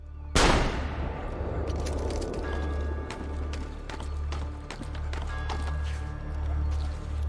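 A single loud gunshot rings out near the start in Assassin's Creed Brotherhood, set in Rome, with a sharp onset and a ringing decay. Scattered clatter, footsteps and low ambient game rumble follow.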